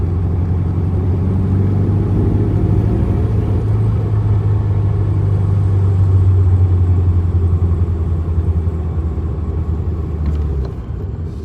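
A 1970 Volkswagen air-cooled engine runs steadily while driving, a loud, close, continuous low rumble that holds for about eleven seconds before easing slightly at the end, with no talk over it.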